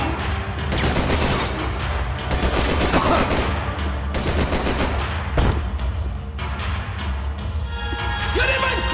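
Rapid bursts of gunfire in Max Payne 3, dense and loud, with sharp shots and reports crowding together in overlapping volleys while someone talks over the shooting.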